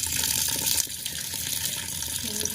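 Water runs steadily from a household tap into a sink, a continuous broadband gush at moderate level with no voices over it.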